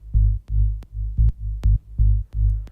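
A deep bass sample loop chopped into a rhythmic pattern of short and long throbbing hits, each with a click at its onset, repeating eight times, low-heavy with little midrange.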